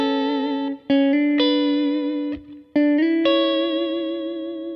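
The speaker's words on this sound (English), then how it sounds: "Bunch of delay and reverb, play a little Sunday morning thing." An electric guitar with a Vox-style tone, run through heavy delay and reverb, plays a slow phrase. A few clear notes and chords ring out loud and alone, each with long, shimmering echo tails that fade between the attacks.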